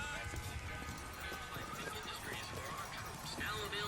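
Horses clip-clop and whinny against a busy, steady background of game noise from Bioshock Infinite, with faint voices mixed in.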